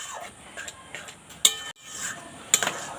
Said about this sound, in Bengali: সুজিটা দেওয়ার পর এইভাবে নাড়তে থাকতে হবে